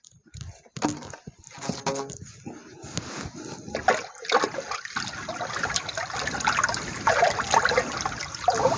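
Water sloshes, splashes and trickles as liquid A and B hydroponic fertilizer is mixed into a bucket of water, a continuous moderate wash of liquid sound with some knocks.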